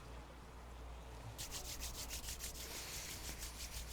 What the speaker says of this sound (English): Taking those hands and rubbing them together now, starting to create some friction